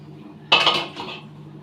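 Water is rinsed through a mixer grinder jar and poured into pepper rasam, heard as a sudden close splash and clatter of the jar that fades within a second against a quiet background.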